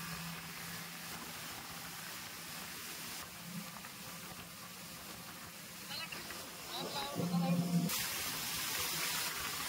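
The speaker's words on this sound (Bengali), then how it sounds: "আমাদের বোট কিন্তু এখন ছেড়ে দিল।" A tour boat's engine drones steadily as the boat leaves the jetty on Maithon Dam, a low hum beneath wind and water noise that swells toward the end, with people talking nearby.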